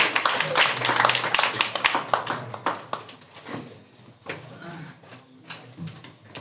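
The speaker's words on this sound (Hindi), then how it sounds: "इनके लिए एक जोरदार ताली लगा दीजिए" An audience applauds a test topper at a prize distribution, with a burst of scattered hand claps that gradually thins out and fades, and a voice speaking over it.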